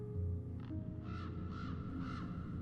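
A raven's harsh caws come in three evenly spaced calls over a low, steady background drone, the dramatic bird effect layered into a reading of Poe's The Raven.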